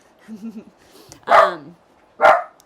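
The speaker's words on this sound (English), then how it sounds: "Sorry about the dogs barking." Dogs barking indoors in a room, two loud sharp barks about a second apart following a few soft whines, a voice faintly underneath.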